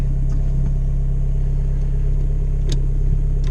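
A VW Polo 6N with a 1.9 diesel engine pulling away, a loud steady low diesel drone close by with a slight rise, no talking.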